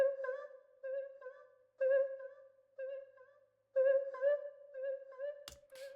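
Chopped vocal accent sample from the Anastasia Vocal Chops 1 pack, heard as short pitched sung syllables in a bouncy stop-start rhythm, loud and dry, with a brief noisy burst near the end.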